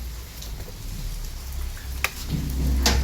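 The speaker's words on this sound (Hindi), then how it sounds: "और तो भाई कड़ाकेदार बारिश हो रही है।" Heavy monsoon rain pours steadily outside a home at night, a dense continuous hiss with occasional sharper splashes and knocks, growing a little louder toward the end.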